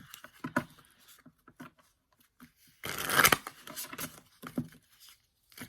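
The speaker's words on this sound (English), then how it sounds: "This deck is very, very thick, so I have to split it just a bit to shuffle it" A very thick tarot card deck split into parts and shuffled by hand, giving a short burst of riffling patter near the middle between quieter handling rustles.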